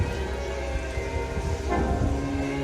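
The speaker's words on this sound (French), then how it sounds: "Il la découvre battue par une pluie torrentielle." Torrential rain pours as a sound effect in a summer light show at the Château de Blois, a dense, loud, continuous hiss and rumble with no voices.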